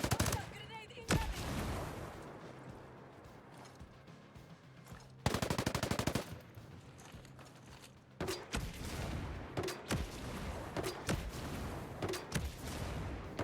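Ghost Recon Breakpoint combat on an island rattles with dense automatic gunfire and heavy bursts that come in clusters over several seconds. Louder volleys punch through a constant din, and a voice is heard faintly at times.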